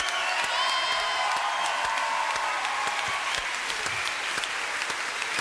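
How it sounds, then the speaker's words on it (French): A French TV studio audience applauds and cheers for two guests at the close of a talk show, dense sustained clapping with a few whoops, steady and loud throughout. "Philippe Douste-Blazy, Amélie Pic, mesdames, messieurs, applaudissements pour eux."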